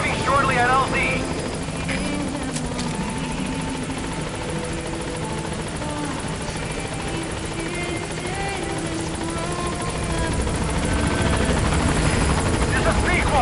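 A helicopter in Metal Gear Solid V approaches a landing zone, its rotor thrum and engine whine filling the scene continuously, with radio voices talking over it.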